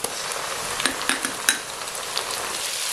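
Onions with garlic and ginger paste fry in a pan for a Pakistani beef dish, a steady close sizzle broken by several light clinks and scrapes of stirring.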